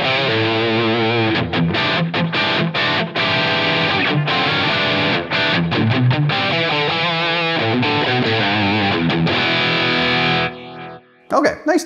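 A heavily distorted electric guitar through a Placater Dirty amp model plays a continuous riff with thick, saturated tone, ending abruptly with a few short choppy notes.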